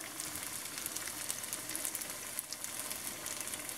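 Churro dough fries in hot canola oil, giving a quiet, even crackling sizzle that holds steady with no talking.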